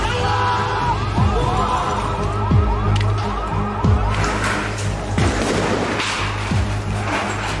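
Ambulance sirens wailing in rising and falling sweeps through a crowded street after an explosion in Lebanon, blending with dense crowd noise and traffic, with sharp impacts and general commotion throughout.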